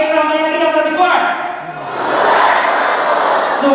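A student crowd at a new-student welcome lecture at a university in Medan roars and shouts together loudly. Sustained voiced yells swell and keep going without a break.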